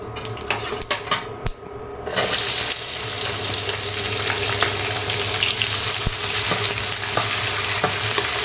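Onions frying in oil in a home kitchen, a loud, close, continuous sizzle that starts abruptly and holds steady, with occasional clicks and scrapes of a spoon against the pan.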